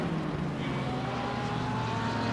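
Porsche race car engine in a racing game replay at Zolder, a steady loud drone with a rising whine held throughout, no speech.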